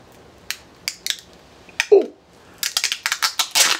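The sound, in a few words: snipping tape off a package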